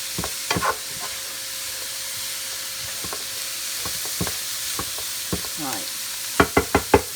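Egg roll filling being stir-fried in a pan, with a steady sizzle underneath and a series of clattering stirs and scrapes, a few of them louder bursts near the end, with no talking.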